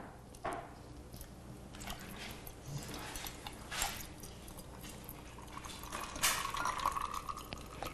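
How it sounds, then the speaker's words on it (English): Seltzer water poured over ice into glasses of sangria, a fizzy, splashy trickle with faint clinks, soft and steady throughout with a brighter pour near the end. "And then you top this sangria with some of the seltzer water"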